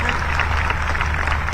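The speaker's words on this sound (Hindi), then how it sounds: "जरा ताली बजा के ऐसे शिक्षकों का स्वागत करें।" A seated audience claps to welcome teachers at the Anugunj closing ceremony in Bhopal, a dense, even roar of many hands sustained throughout with no pause.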